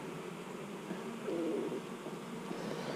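Honey bees in an open hive during queen banking, a steady low droning hum of many wings, faint and even with a slight swell midway.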